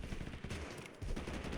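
Rapid gunfire in Totally Accurate Battlegrounds crackles in dense bursts, loud and continuous with a brief gap, with no talking over it.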